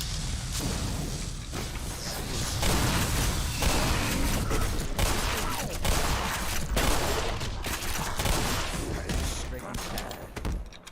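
Shotgun blasts and other gunfire from the video game Black Mesa keep up in a dense, loud barrage of repeated booms and mechanical clatter, with a player's voice talking over them.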